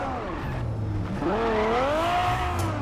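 A stolen car in Cyberpunk 2077 accelerates, its engine note rising in pitch through a steady revving sweep that stays loud and close from start to finish, with a faint hint of tire noise.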